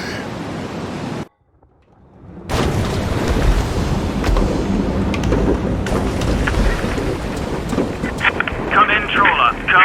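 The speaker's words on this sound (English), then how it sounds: "In the heart of the storm!" Storm at sea in the video game A Fisherman's Tale: a roaring wall of wind, rain and surf bursts in after a brief silence and rumbles on loudly, with gusty swells and creaking layered on top.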